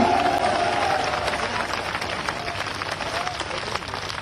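A crowd at an Indian political rally claps and cheers in a continuous roar of applause, loud and steady throughout, with a voice faintly audible beneath it.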